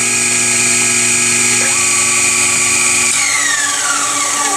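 A CNC machine profiles a Hemi valve cover, a loud continuous high-pitched cutting whine with shifting tones as the tool changes direction partway through, no talking.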